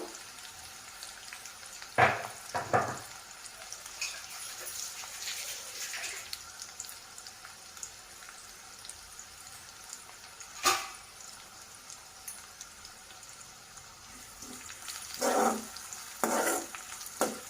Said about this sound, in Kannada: ಬೆಳ್ಳುಳ್ಳಿನ ಲೋ ಫ್ಲೇಮಲ್ಲಿ ಚೆನ್ನಾಗಿ ಫ್ರೈ ಮಾಡ್ಕೋಬೇಕು ಬ್ರೌನ್ ಕಲರ್ ಬರೋ ತನಕ